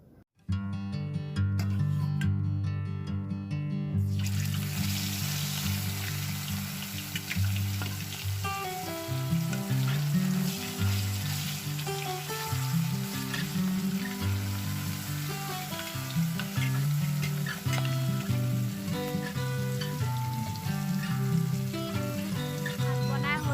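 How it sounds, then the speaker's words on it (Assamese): Fish sizzles steadily in a frying pan during home breakfast cooking, a continuous close crackling hiss that runs unbroken for over twenty seconds, with a tonal background layer beneath it. "এতিয়া মাছটো ফ্ৰাই কৰিম"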